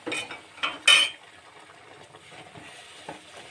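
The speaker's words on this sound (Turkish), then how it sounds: "Karıştırıyorum güzelce." Flour halva being stirred in a pot, with a few loud scraping clinks of the spoon against the pot early on, then quieter soft stirring and occasional light taps.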